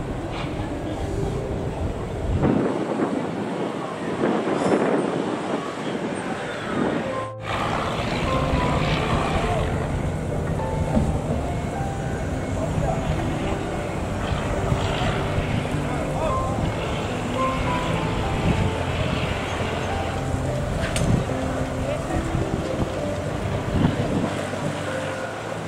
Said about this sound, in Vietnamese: Ngồi trên một ghe dải cào,